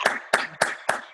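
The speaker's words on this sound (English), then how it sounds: "Feel like clapping." Clapping at a town board meeting in Kent, New York: four sharp, evenly spaced hand claps in about a second, close and distinct with quick decay between each.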